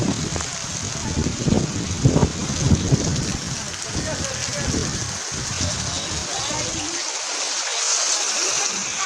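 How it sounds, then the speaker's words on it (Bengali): Heavy rain pouring during flooding in Chittagong, a continuous dense hiss of rain on water and surfaces with voices talking over it, the low rumble easing toward the end. "দেখাও কিভাবে বৃষ্টি হচ্ছে"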